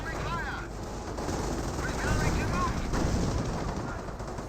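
Rifle and machine-gun fire rattles through a World War II battle in the strategy game Company of Heroes 1. The bursts are continuous and dense, and voices talk over them.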